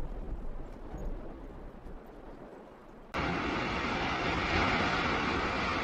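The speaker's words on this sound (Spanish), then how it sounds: "Escuchen los granitos como golpean" Hailstones pelt down during a violent storm with tornado winds in China, a dense, rattling patter that jumps abruptly to a much louder, continuous roar of impacts halfway through.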